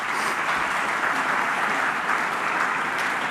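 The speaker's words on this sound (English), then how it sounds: "so can we give them a round of applause?" A crowd applauds rugby league players at an awards night, a dense, loud, continuous wash of clapping that holds evenly throughout.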